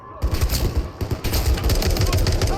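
Rapid bursts of gunfire in the video game Modern Warfare 3 crackle continuously with a dense, loud rumble, while a voice talks over the shooting.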